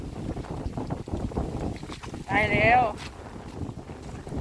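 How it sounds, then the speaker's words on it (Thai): Strong wind gusts outdoors as rain approaches, buffeting the microphone in a steady rushing roar while someone speaks briefly over it. "ลมแรงฝนมาแล้ว"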